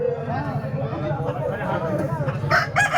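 A red rooster at a rural poultry and livestock market crows in a long rising call over busy crowd chatter and nearby talking, with other fowl clucking around it.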